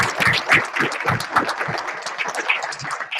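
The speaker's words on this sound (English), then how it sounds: "Give them a round of applause." An audience at a Sunday training session applauds staff members standing up, a dense, close burst of clapping with some voices mixed in that holds steady for a few seconds.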